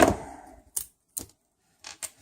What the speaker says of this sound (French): Vous allez prendre des ciseaux ou une pince coupante et vous allez venir sectionner votre bâtonnet.